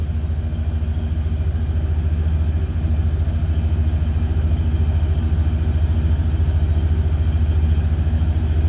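The 425-cubic-inch V8 of a 1978 Cadillac Eldorado idles steadily, a deep low rumble with a loping, slightly uneven pulse, close and continuous with no talking.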